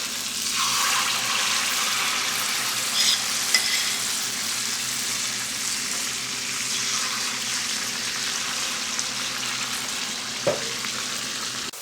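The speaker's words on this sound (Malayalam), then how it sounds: "ഇതൊന്ന് ഫ്രൈ ആയി വരട്ടെ, എന്നിട്ട് നമുക്ക് ഇത് മറിച്ചിടാം കേട്ടോ" Spoonfuls of rice flour batter fry in hot oil for a Kerala tea-time snack, making a dense, steady bubbling sizzle that runs unbroken and close, with a few faint clinks and one sharper tap near the end.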